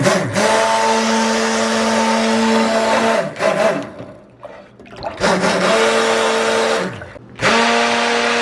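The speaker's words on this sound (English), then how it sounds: "we're gonna blend, blend, blend to make sure all these ingredients are blended together" A kitchen blender whirs loudly, mixing melted oils and butters for homemade soap bars, running in three long bursts with brief pauses between them as the motor spins down and restarts; no talking.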